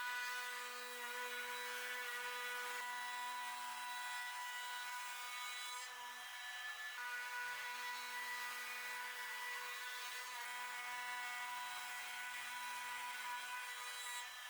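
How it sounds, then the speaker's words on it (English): A steady high-pitched whine of a power tool runs throughout with a faint grinding undertone, briefly dipping once before resuming at full pitch. "I used my router to chamfer the edges to a 45-degree angle."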